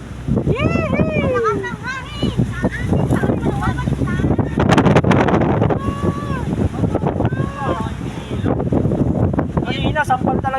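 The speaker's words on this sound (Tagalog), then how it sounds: "sampal talaga yung hangin" Strong wind buffets the microphone aboard a boat while several people talk and call out over the gusts.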